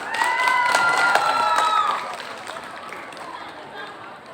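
A school audience applauds a student presentation on family medicinal plants, a dense burst of clapping mixed with excited voices and shouts that fades after about two seconds, leaving a quieter murmur.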